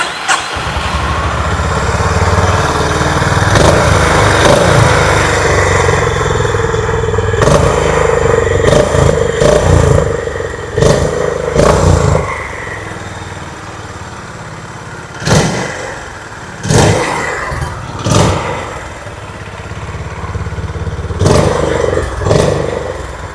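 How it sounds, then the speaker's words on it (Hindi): A 2025 Honda CB350C Special Edition motorcycle idles with a steady low thumping exhaust note, broken by several sharp throttle blips and revs, loud and close with no talking. "आइए अभी सुन लेते हैं इस बाइक की एग्जॉस्ट नोट।"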